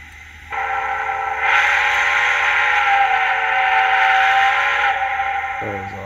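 A LokSound sound decoder in an HO scale Bachmann 765 steam locomotive model sounds its whistle, a loud, sustained, chord-like tone that swells after a moment, holds for several seconds, then cuts off, followed by a brief lower sound.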